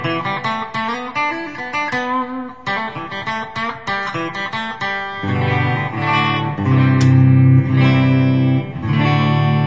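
A custom electric guitar with dual humbuckers in the bridge and neck positions plays in a clean tone, with quick plucked note runs giving way to sustained, ringing chords, loud and close, with no talking.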